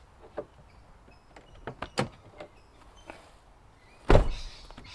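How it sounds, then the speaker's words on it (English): The driver's door of a Toyota 80 Series Land Cruiser, whose handle is broken, is worked open with several light clicks and taps followed by one solid thunk of the latch releasing, all close and quiet. "So for the last, I don't know, month or two, I've actually been opening the door like this."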